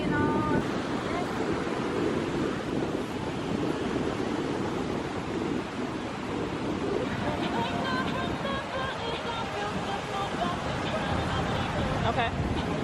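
Strong wind buffets the microphone by the sea in Puerto Rico, with surf rolling underneath in a constant, loud roar; people talk faintly in the background.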